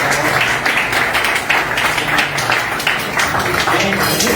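An audience claps after a literary talk at a book discussion, a brisk burst of applause held steadily for a few seconds, fairly close and loud.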